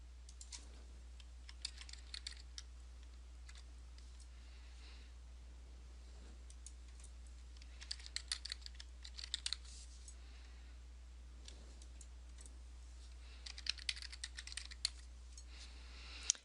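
Faint computer-keyboard typing while entering database connection details: sparse, light clicking keystrokes in brief clusters over a steady low electrical hum, with no talking.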